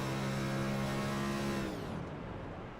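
A stock car engine at Dover Motor Speedway in a sim race holds a loud, steady harmonic drone that abruptly cuts and fades into softer broadband noise as the driver clutches and the engine drops off.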